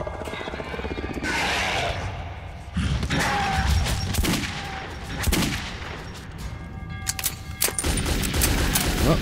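Revolver shots and heavy gunfire in the Metro video game, with loud booming bursts over a dense, continuous battle din, close and intense, with voices faintly underneath.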